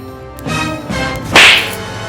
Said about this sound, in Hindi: तेने मुझे थप्पड़ मारा ना